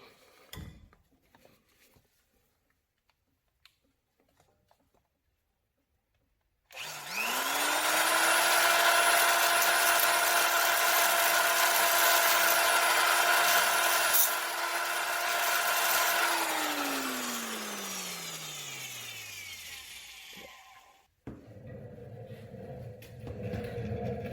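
An angle grinder grinding heavy crust off a ground wire connection, spinning up loudly and holding a steady high whine for about ten seconds before winding down, with quiet handling noises before and after.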